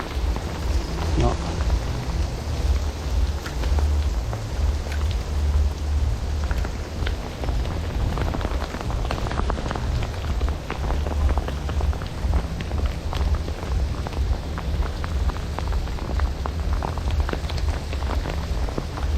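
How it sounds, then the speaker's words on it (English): Heavy rain falls steadily and hard during a fishing trip, making a dense, continuous hiss with no break. "Yeah, it's raining hard, man."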